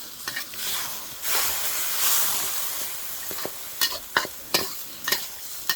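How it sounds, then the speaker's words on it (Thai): Fried pork stir-fried with chili and salt in a pan, a steady hiss of sizzling in the first half, then a run of sharp, rhythmic spatula scrapes and clacks against the pan, fairly close. "ก็ผัดไปเรื่อยๆนะผมมาต้องห่วงครับความอร่อย"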